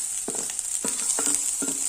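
Cooked rice is stirred into a hot frying mixture of capsicum and potato, with a constant sizzle under several short scraping strokes of the spoon, close up.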